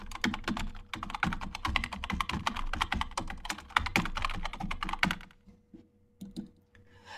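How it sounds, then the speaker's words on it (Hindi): Rapid, close typing on a computer keyboard, a quick run of crisp key clicks for about five seconds, then a pause and a few scattered taps. "जो आप यूजर आईडी यहाँ पे दिए हैं उसको यहाँ टाइप करके सिंपली सबमिट बटन पे क्लिक कर देना है"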